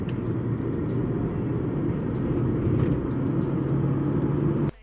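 Mercedes-Benz W211 E260 Elegance sedan driving under steady throttle through the gears, a continuous low engine and road rumble heard from inside the cabin, ending abruptly.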